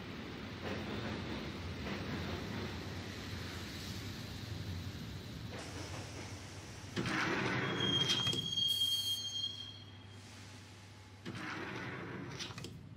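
Subway train ride in the Max Payne video game, a steady rumbling carriage drone with a brief high tonal squeal partway through and door-like shifts in level, no voices.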